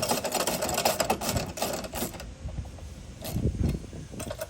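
Hand tightening of nylock nuts with a 7/32 Allen driver while installing a side step on an Owl Sprinter van, heard as close, busy clicking and ratcheting mechanical sounds that run steadily and then thin out.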